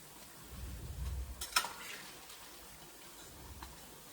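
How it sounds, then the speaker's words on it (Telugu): Punugulu batter frying in oil on a low flame, a soft continuous sizzle with some faint stirring and a brief clink, heard alone and fairly quiet. "అన్నీ వేసుకున్నాక సిమ్లో పెట్టుకొని అలా ఫ్రై చేసుకోవాలి."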